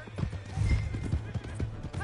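A horse gallops away in the video game Red Dead Redemption 2, its rapid clip-clopping hooves close and clear with a brief whinny, while voices are heard.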